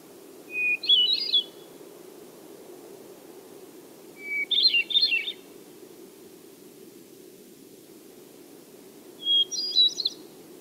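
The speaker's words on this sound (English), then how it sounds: "I'll just let you listen to the hermit thrush should come first" Three separate hermit thrush song phrases, each opening on a long pure whistled note before spiralling up into fluty, fluttering notes, with quiet pauses and soft background hiss.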